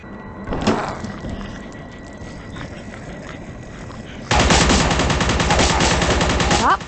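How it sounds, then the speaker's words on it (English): Sci-fi laser rifle in a video game firing rapid bursts that turn into sustained automatic fire, loud and dense, after a quieter stretch with a single sharp shot near the start. "This weapon starts out as a 3-round burst fire and can be upgraded to be fully automatic."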